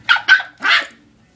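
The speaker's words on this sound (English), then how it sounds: "You barking now" Three sharp dog barks close by, two quick ones followed by a longer bark, then quiet.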